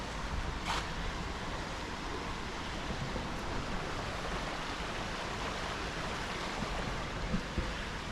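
Creek water flows steadily near an abandoned cabin in Swatara State Park, a continuous broadband rush and hiss that holds at an even level throughout, with no voices.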